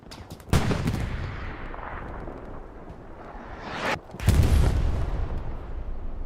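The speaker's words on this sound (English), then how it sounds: "Artillery begins to land." Artillery fire landing in a WWII video game match at Carentan, two heavy booming impacts a few seconds apart, each bursting loud and rolling into a long rumbling decay.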